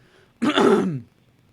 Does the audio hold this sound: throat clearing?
yes